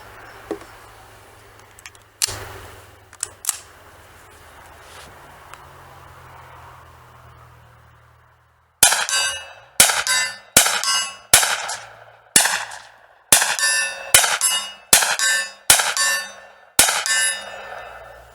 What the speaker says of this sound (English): So I'm going to run a mag through, see how I do.